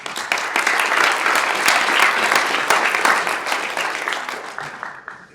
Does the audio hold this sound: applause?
yes